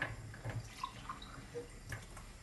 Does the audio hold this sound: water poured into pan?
yes